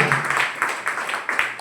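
An audience claps at a team-building class on earning passive income, the hand claps sounding as a loose, uneven patter of sharp hits that rise and fall over a second and a half with no voices.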